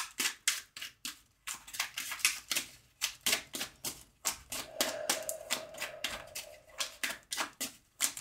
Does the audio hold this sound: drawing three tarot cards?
yes